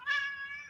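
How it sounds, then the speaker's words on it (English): A house cat gives a single short meow, bright and close, rising quickly and fading out in under a second with no other sounds around it. "he's been doing the meow yawn tap combination"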